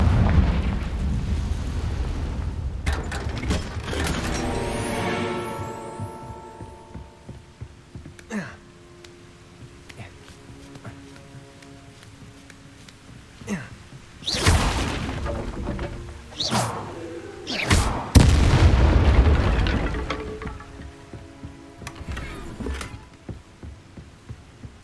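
A Confringo fire spell in Hogwarts Legacy lets off repeated explosive bursts and booms amid game combat sounds, with heavier blasts near the end.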